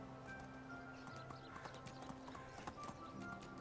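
Horse hooves clip-clopping in Medieval Dynasty, a quiet, steady rhythmic trot under faint ambient game sounds.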